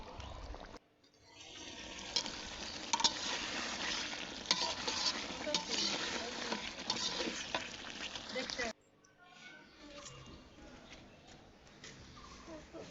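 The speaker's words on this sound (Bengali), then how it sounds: "এখন রসটা রান্না করতেছি।" Beef curry gravy sizzling and being stirred in a pot on a gas stove, a steady loud frying hiss with scraping stir strokes that drops abruptly to a quieter simmer near the end; no speech.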